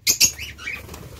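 Lovebirds flapping their wings in a quick burst while being caught by hand, two loud close flutters followed by fainter rustling and a brief chirp.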